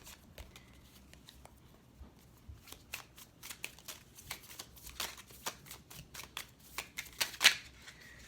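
Tarot cards shuffled by hand, a run of quick papery riffles and soft slaps that grows denser and louder toward the end, heard up close.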